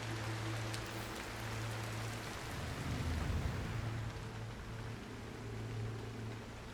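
Rain in the mountain game Cairn, a quiet, steady hiss of falling drops with a brief low rumble swelling in the middle, over a faint musical drone.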